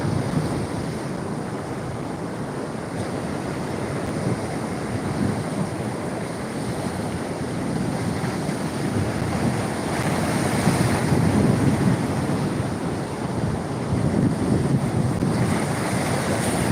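Wind blows steadily by the sea, a continuous broadband roar with gusts swelling louder around the middle, rumbling on the microphone, with surf-like wash underneath and no talking.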